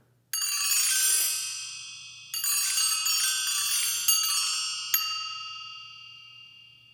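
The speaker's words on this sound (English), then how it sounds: "Our next instrument is this bell tree. Makes a beautiful shimmering sound" A bell tree shimmers in bright cascading glissandos, three long descending sweeps of many small bells ringing and decaying into a lingering tail, close and clear with no voices.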